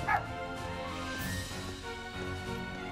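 A dog barks and yips amid a busy game soundscape with music, one clear bark at the start and fainter barking mixed in under the steady background.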